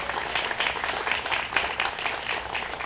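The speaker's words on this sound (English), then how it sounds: "I want y'all to give someone a round of applause" An audience applauding at a political announcement event, a dense burst of clapping from a crowd heard close and fairly loud, continuing steadily for a few seconds.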